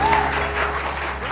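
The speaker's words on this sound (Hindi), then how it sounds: "भरपूर तालियां होनी चाहिए" A morning TV show studio audience applauds, many hands clapping in a dense, steady roar that holds at the same level throughout.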